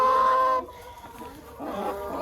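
Chickens clucking around a sandy dust bath crate, a loud close squawking call followed by quieter, irregular clucks and murmurs.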